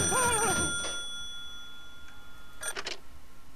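A telephone rings in the horror video game Calling, a short electronic ring burst heard faintly against a quiet, humming background, with a brief voice at the start.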